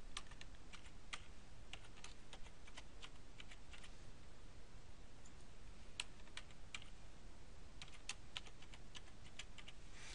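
A password is typed on a computer keyboard, with quick irregular key clicks spread across a quiet background and no speech.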